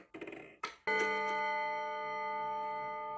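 A pendulum wall clock's alarm: a couple of mechanical clicks and knocks, then its hammer strikes a rod in a single bright metallic chime that rings out and sustains, slowly fading as it hums on.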